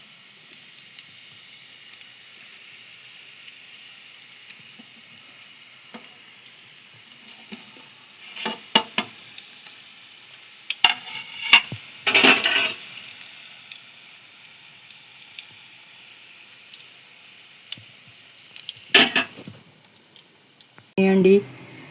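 Badusha pastries fry in oil with a soft, continuous sizzle and scattered clicks and stirring, some louder bursts midway, while a voice speaks over parts of it.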